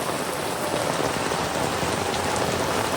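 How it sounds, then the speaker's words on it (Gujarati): Heavy rain pouring down, a dense, loud, continuous hiss of drops striking surfaces close by, steady and unbroken with no voices. "વરસાદ ફૂલ ચાલુ છે."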